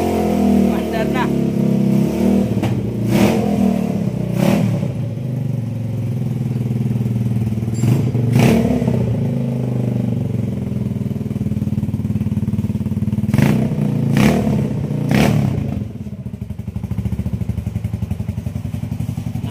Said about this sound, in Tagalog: Singaw yung tambutso. Maingay lang yung pipe.